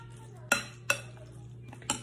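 Spoon clinks sharply against a bowl while tuna sushi filling seasoned with pepper is mixed, giving three distinct close taps spaced irregularly over a low steady hum.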